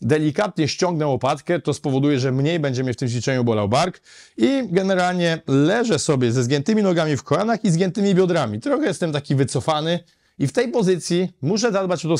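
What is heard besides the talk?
None of the usual background noises is heard.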